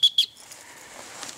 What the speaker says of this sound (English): I think it is time to sound the rape whistle.